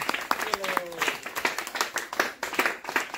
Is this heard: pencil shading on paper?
no